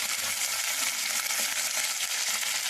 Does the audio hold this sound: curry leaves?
yes